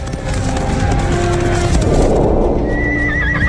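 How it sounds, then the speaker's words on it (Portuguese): Horses neigh loudly over a steady rumble of galloping hooves, with a high, wavering whinny rising near the end. "Os humanos vão a cavalo para a batalha pela primeira vez."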